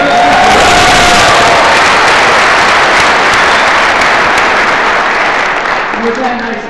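Large student crowd at a Boise State speech breaks into loud, sustained applause with cheering and whoops, a dense roar of clapping that holds steady and only slightly fades at the end.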